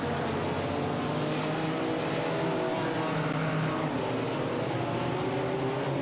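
A Porsche GT race car engine in a sim racing game during a two-hour endurance event, a loud continuous droning roar with shifting pitch, steady throughout.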